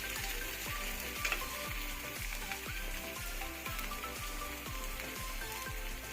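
Cabbage talipattu dough frying in an oiled pan, a steady close sizzle and crackle of hot oil running throughout with faint scraping clicks, no voices.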